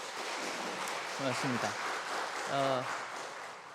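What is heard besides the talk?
congregation applause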